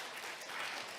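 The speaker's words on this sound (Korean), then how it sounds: "송창곤 회장님께 다시 한번 박수 부탁드리겠습니다" Brief applause from a seminar audience at a world Korean business convention, a soft, even patter of clapping for about a second with no voices.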